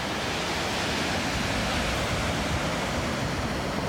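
Ocean surf at Point Reyes beach on a foggy morning, a dense, steady roar of breaking waves heard from an overlook, loud and unbroken, with no voices.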